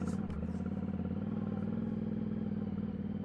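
A Yamaha Tenere 700 motorcycle rides off-road through orchards and fields, its engine a steady, fairly faint drone with a low rumble and a brief rattle near the start.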